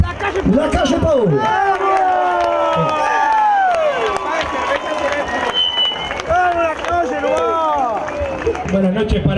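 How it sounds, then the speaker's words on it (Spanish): A large crowd at a political rally cheers, shouts and claps with rising whoops and yells, a loud continuous roar of voices and applause throughout. "Lo recibimos con un fuerte aplauso."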